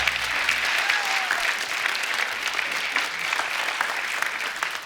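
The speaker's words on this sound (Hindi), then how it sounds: "एक बार जोरदार तालियां होनी चाहिए।" Sustained applause from a television comedy show's studio audience fills the whole stretch, dense and steady without a break, loud and close with no talk over it.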